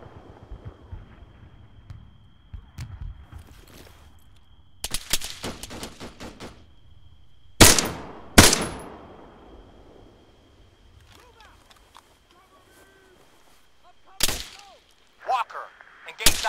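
Bursts of machine gun and rifle fire in the ARMA 3 military video game, with sharp loud volleys near the middle and end and scattered shots between, over a steady hum.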